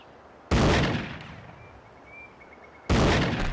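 Two loud shotgun blasts in Cabela's Big Game Hunter 2005 Adventures, about two and a half seconds apart, each with a sharp crack and a long ringing tail that fades before the next.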